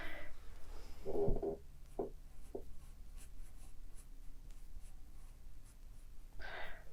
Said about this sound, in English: I picked up my 2B pencil to get in my darks